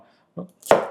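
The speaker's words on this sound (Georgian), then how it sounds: "ეგ არის უბრალოდ ჩეხვის ხმა" Two quick knife strokes chop through a carrot on a kitchen board, a soft tap followed by a sharper, louder crunching chop.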